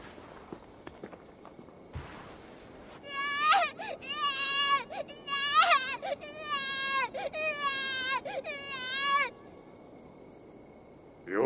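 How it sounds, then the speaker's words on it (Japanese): A newborn baby wails in a birth scene in the video game Assassin's Creed Valhalla, a series of loud, quavering cries in quick succession after a few soft rustles, with no talk over them. "鳴き声を聞いてみろ。 戦士の産声だぞ。"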